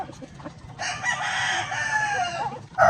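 Several white chickens cluck in a steady chatter, with a rooster's crow rising over them at the end; nearby and fairly loud, no talking.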